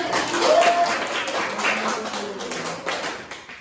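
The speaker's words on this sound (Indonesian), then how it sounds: "Oke, tepuk tangan." Students in a classroom lesson give a short round of applause, a loose patter of clapping hands at moderate distance that thins out over a few seconds.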